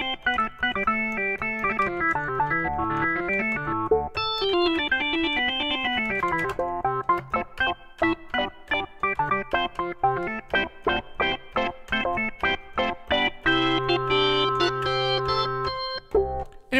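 Additive-synthesis organ patch on a SynthMaster 2 software synth, layered with a constant sine wave, plays a steady run of sustained harmonic notes with shifting pitches, then shorter repeated chords toward the end, with no talking.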